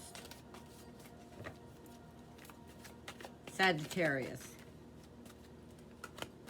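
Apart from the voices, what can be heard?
shuffling a tarot card deck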